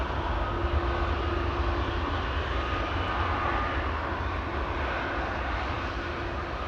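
Jet engines of an Embraer E2 airliner at Amsterdam Schiphol Airport hold a steady, loud broadband roar that fills the whole stretch without pause, with no talk over it.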